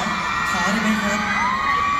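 Concert crowd at a pop show cheering, whooping and screaming loudly and continuously, a dense wall of voices with a few rising shrieks standing out.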